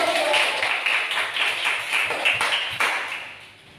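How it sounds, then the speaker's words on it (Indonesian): A classroom of students claps for the winning group, a lively run of close, rhythmic hand claps that fades out near the end. "Tepuk tangan."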